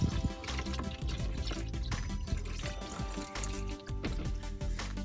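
Motor oil streams out of the oil pan of a 2017 Honda Accord Sport with the top filler cap removed, a steady close pour and trickle into a catch container, running continuously with small splashy drips throughout.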